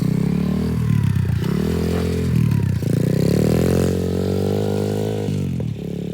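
A semi-automatic dirt bike engine runs close by, its rough buzzing note rising and falling in repeated revs with brief dips between pulls, plus some clattering.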